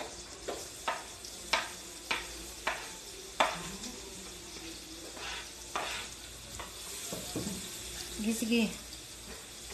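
Garlic sizzles in a hot pan while a utensil scrapes and stirs it in repeated sharp strokes, with a voice speaking briefly over the frying.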